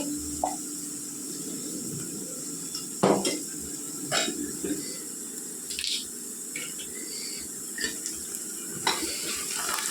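Ghee sizzles steadily in a pan for Andhra chicken pulao, a constant frying hiss broken by sharp clinks and scrapes of a utensil against the pan.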